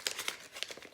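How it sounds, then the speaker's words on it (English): Sheets of paper being crumpled and torn at the edges to look frayed, a short run of faint, dry crinkling bursts, close by and soft, with no voices. "crumple one edge more than the rest of the paper just to make it look frayed and tattered"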